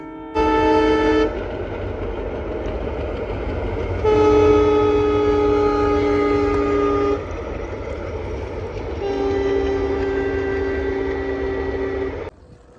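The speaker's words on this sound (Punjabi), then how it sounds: "ਰੇਲ ਗੱਡੀ ਦੀ ਹੂਕ ਤਹਾਰਨ ਮਿੱਠੇ ਸੰਗੀਤ ਵਰਗਾ ਲੱਗਦਾ ਹੈ ਇਸ ਵੇਲੇ" A train horn sounds in three long, steady blasts, each a rich chord, over the continuous rumble of a moving train near Amritsar.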